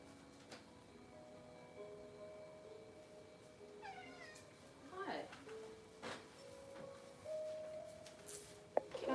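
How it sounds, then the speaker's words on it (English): A pet cat meows repeatedly at close range, several chirpy, drawn-out calls at irregular intervals over a quiet indoor background, with a person's voice nearby. "my cat is like speaking and meowing to me"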